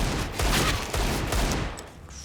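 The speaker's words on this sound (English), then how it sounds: "Pistols out for Angel though. 5-7 spam" Rapid pistol fire from a Five-seveN in a Counter-Strike match on Overpass, a dense burst of overlapping shots rattling on for about two seconds, loud and continuous before tapering off.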